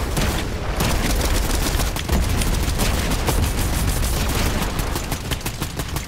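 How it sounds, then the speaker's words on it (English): Heavy gunfire in the Fortnite battle royale game pounds away continuously, with rapid, dense bursts of shots and booms forming a loud, unbroken barrage and no talking. "I hear shots."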